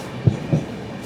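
Coach of the 16334 Trivandrum Veraval Express running on rails between Ahmedabad and Rajkot, with a low steady rumble and two soft rhythmic wheel thumps over rail joints.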